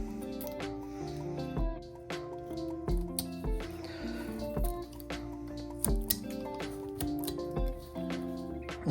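A knife slicing into wood as a piece is carved off a roughed-out head, with a series of crisp, close cutting clicks and scrapes spaced irregularly throughout.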